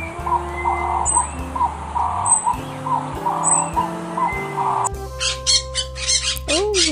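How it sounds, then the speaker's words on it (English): A parrot gives a run of loud, harsh squawks and shrill calls close by, mixed with a low steady hum and other animal sounds. "Cute parrot! Blue parrot!"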